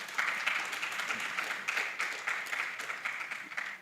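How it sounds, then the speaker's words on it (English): A conference audience claps for an honoree, a soft, continuous patter of many hands heard from some distance, even and fairly quiet across the whole stretch with no voices rising above it. "Clap for him, please."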